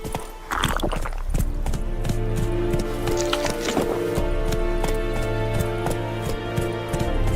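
A horse in Witcher 3 clip-clops along at a steady walking gait, hoofbeats regular and moderately close over a soft musical and ambient bed, with faint voices now and then.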